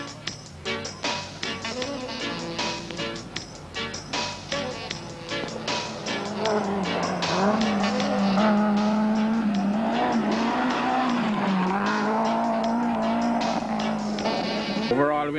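Rally cars race through special stages in cane fields at a 1992 Jamaican rally, engines revving hard with gear changes and sustained high-revving drone as a car passes, heard loud and fairly close, with commentary over it.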